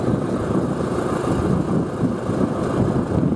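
A tractor engine idles as a steady, loud, dense low rumble, with no talking.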